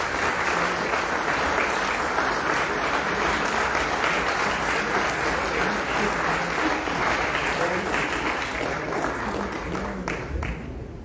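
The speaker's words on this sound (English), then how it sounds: "Sous vos applaudissements nourris" Sustained applause from an audience at the opening ceremony of a new Toyota showroom in Bagatelle, Mauritius, a dense, even clatter of many hands holding steady for about eleven seconds before easing slightly at the end.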